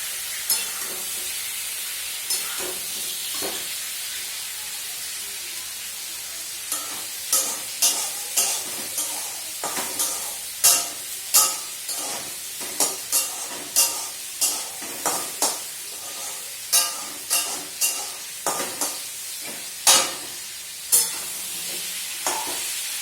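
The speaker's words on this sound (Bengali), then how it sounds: "দেখতে পাচ্ছ এখানে করলা ভাজা, এখানে পটলের তরকারি, দুটো একসাথেই করবো" Bitter gourd fry and pointed gourd curry cooking in plenty of oil, with a steady sizzle and a spatula scraping the pan in brisk, repeated stirring strokes up close. No voices.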